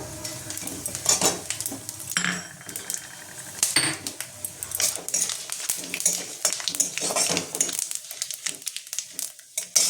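Dry red chillies, bay leaf and panch phoron tempering in hot oil, bursts of crackling sizzle mixed with clattering spoon-and-pan stirring, loud and close throughout.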